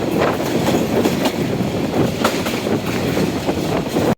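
Train crossing the Jamuna bridge in Bangladesh, a steady loud rumble of wheels on rails with repeated clickety-clack beats throughout, heard from inside a carriage with some wind noise.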